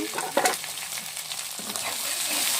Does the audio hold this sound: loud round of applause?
no